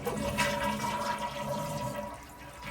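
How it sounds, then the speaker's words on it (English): A household toilet flushes right after its flush handle lever has been replaced, a steady loud rush of swirling water lasting throughout with no voices. "Let's go ahead and give this flush lever a try."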